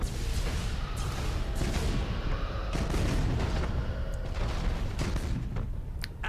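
Lance weapons fire between starships in Battlefleet Gothic Armada, a run of heavy booming blasts and crackling impacts layered over a dense, constant game soundscape without voices.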